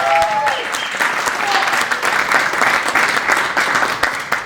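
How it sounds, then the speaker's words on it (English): An audience at a community network event breaks into a steady, loud round of applause, with dense clapping from many hands sustained throughout without letting up. "You give a big, big round of applause."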